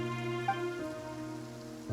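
Rain falls in the Genshin Impact video game, a steady wash of patter under sustained tonal music, with no voices.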